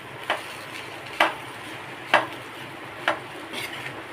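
Cooked rice is mixed for tamarind rice (puliyodharai), with four evenly spaced scraping knocks of a spoon against the vessel over a soft background hiss.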